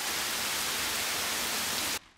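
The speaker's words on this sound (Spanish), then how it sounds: "¡Guau! Wow, ¡llueve a cántaros!" Heavy cartoon rain pours down in a steady, dense hiss that fills the scene at constant loudness, then cuts off abruptly near the end.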